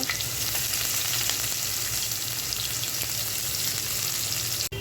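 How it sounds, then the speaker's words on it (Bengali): Onions frying in oil in a pan that was just used to fry rohu fish, a loud, steady, close sizzle with light stirring throughout and no talking, cut off sharply at the end. "মাছ ভাজার ফ্রাই প্যানের ভিতরেই আমি পেঁয়াজ দিয়ে দিচ্ছি"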